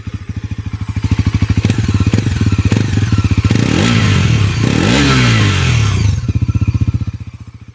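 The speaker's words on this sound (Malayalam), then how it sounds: "ഇനി എക്സോസ്റ്റ് നോട്ടിൽ എന്തെങ്കിലും മാറ്റം വന്നിട്ടുണ്ടോ എന്ന് ഒന്ന് ചെക്ക് ചെയ്യാം." Bajaj Pulsar NS400Z (2026) motorcycle with its exhaust close by, idling with a rapid thumping beat, then revved hard several times with rising and falling roars before settling back to idle. No one speaks.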